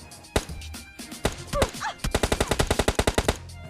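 Gunfire in the video game PUBG: a few scattered single shots, then a rapid, evenly spaced burst of automatic fire, loud and close, with no talking.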